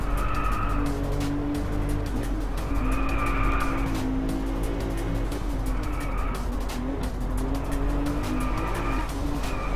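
A Porsche 911 GT2 racing in the video game Driveclub, engine droning steadily and loudly throughout while tires squeal in repeated swells, with a dense scatter of short clicks and knocks over the top.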